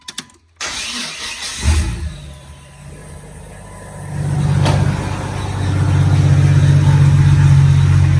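A Jeep ZJ that has just had a manual transmission swap cranks and starts with a short whir, then runs at a steady, rising idle. The engine is close by and nobody speaks.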